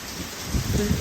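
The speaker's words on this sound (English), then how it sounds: "Okay, here is the rain." Heavy storm rain pours steadily outdoors near the Gulf of Weymouth, a dense broadband wash that swells louder partway through, with no talking.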